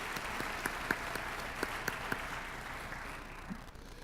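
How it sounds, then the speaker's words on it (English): An audience at a community Martin Luther King Jr. celebration applauds with a steady patter of clapping and a few louder individual claps, moderately distant, fading slightly toward the end. "let's give them all a big round of applause"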